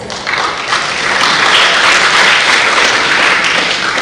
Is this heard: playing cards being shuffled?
no